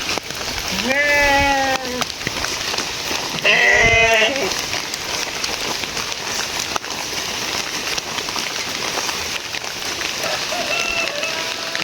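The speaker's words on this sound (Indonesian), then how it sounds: "ada kambing ya, banyak sekali kambingnya dan bagus-bagus teman-teman tuh" Two loud goat bleats close by in a village during rain, the second longer and wavering, followed by a fainter distant bleat over steady rain background noise.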